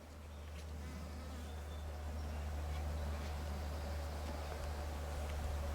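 Honeybees from a healthy, strong hive in early-season build-up, a dense steady buzz that swells slightly and holds, continuous and close, over a low constant hum.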